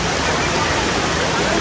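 A waterfall in Munnar, Kerala, heard close by as a loud, constant rushing roar of falling water with no pauses.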